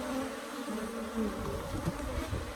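Africanized honey bees swarm around an open hive during an inspection, their dense buzzing steady and close, with a low continuous drone and occasional louder passes near the listener.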